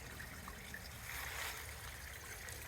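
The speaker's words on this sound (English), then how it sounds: "here again, you've got another little stream coming down through," A small woodland stream in Pembrokeshire trickles faintly and steadily as a soft, continuous burble with no voices.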